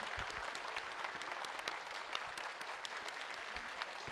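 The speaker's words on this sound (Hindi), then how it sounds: "तालियों की गड़गड़ाहट रुकनी नहीं चाहिए।" Audience applause at a live podcast recording with Acharya Prashant and Chitra Tripathi, a steady, dense patter of many hands that stays fairly soft and distant throughout.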